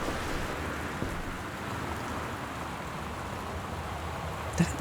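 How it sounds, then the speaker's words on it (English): Steady rain hisses through the Gone Home game with low thunder rumbling beneath it, a continuous moderate wash with a small bump near the end. "That's loud, that thunder."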